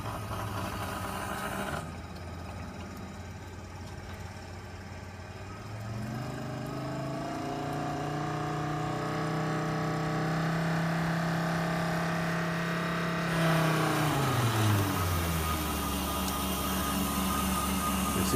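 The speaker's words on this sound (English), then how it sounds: "You see the pump is running smoothly now at 50 psi, which would be its typical operating pressure." A pump, freshly realigned with its bolts retightened, runs smoothly at about 50 psi, giving a steady close mechanical hum with layered tones that shift pitch a couple of times before settling, with no voices.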